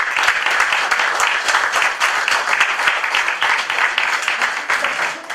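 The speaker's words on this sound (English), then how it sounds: "join me to a round of applause to all of us" A round of applause from an audience at the close of a talk: full, busy clapping from many hands, sustained throughout and easing slightly at the very end.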